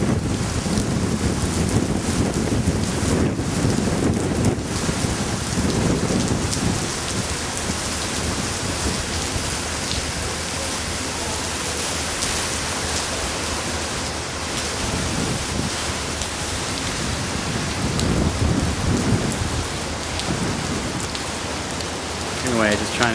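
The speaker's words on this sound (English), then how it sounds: "Raining in India." Steady rain falling in India near a hotel, a dense, loud, continuous hiss of drops on surfaces with some wind buffeting the microphone throughout.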